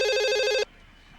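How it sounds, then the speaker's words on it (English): A telephone rings in a movie, a short bright electronic trill that cuts off abruptly after about half a second, leaving quiet background. "Yo, pick up the phone."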